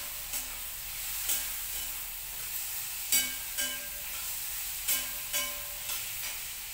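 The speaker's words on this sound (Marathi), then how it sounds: "पावटा टाकून जरासं भाजून घेणार तेलात." Pavta beans and brinjal fry in hot oil with a steady soft sizzle, broken by regular sharp scrapes and clicks of a spoon stirring the pan.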